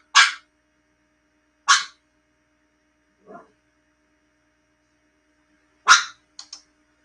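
A dog barks in short, sharp bursts: two loud barks about a second and a half apart, a faint low woof, then another bark followed by two quick yips, all close and clear over near silence.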